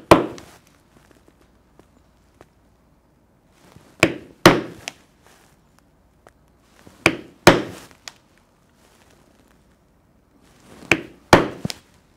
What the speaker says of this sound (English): I will punch those holes as well, using a 1/8 inch punch